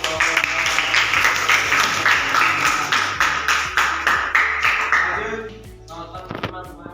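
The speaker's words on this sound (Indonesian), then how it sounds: "ya tepuk tangan untuk" A classroom audience claps for a presenter, with loud, close, fairly rhythmic clapping for about five seconds before it thins out into a few scattered claps.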